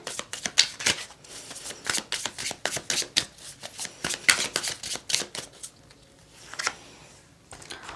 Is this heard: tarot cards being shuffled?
yes